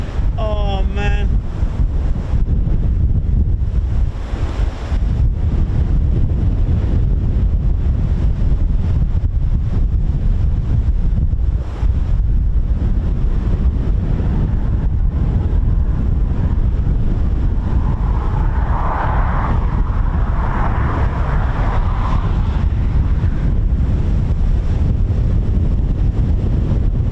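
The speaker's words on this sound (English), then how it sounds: "I really can't do any more with the wind at the minute." Strong gusty wind buffeting the microphone outdoors at an RAF airfield, a loud continuous rumble with rising and falling blasts, a faint engine hum drifting in near the end and someone talking at times.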